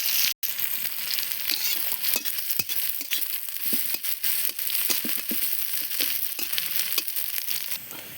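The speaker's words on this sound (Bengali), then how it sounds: "আমার পেঁয়াজ রসুন ভাজা হয়েছে" Garlic and onion sizzle in hot oil with cumin seeds as a tempering for dal, a close, steady frying hiss broken by frequent stirring scrapes and small crackles, with no talk.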